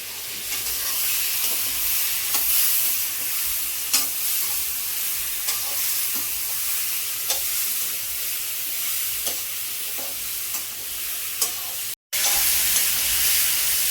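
Paneer frying in a kadai in a smoky home kitchen with the exhaust fan running, a dense continuous sizzle and hiss with scattered crackles, close and steady, cut by a brief dropout near the end.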